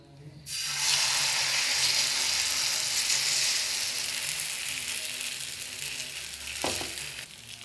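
Radish dosa batter poured onto a hot pan bursts into a loud, close sizzle after a brief quiet moment, holding a dense crackling hiss that eases slightly over several seconds, with a soft utensil knock near the end.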